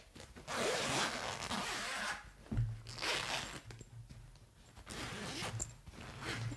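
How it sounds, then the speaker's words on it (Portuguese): Bag zipper being pulled open in short, close, rasping strokes, with several separate pulls and brief pauses between them and no talking. "Vamos ver aqui o zíper."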